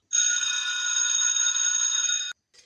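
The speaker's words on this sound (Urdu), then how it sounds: "پھر چھٹی کی گھنٹی بجی" A cartoon-style school bell rings for the end of the day: one bright, continuous electric ring lasting about two seconds, clean and loud, cut off sharply, then a faint short tail.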